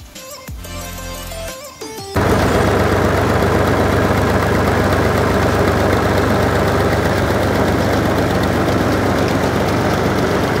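A tractor-driven thresher processing mustard runs as a loud, steady, rumbling mechanical drone that kicks in after about two seconds of quieter, mixed sounds and then holds constant, close by.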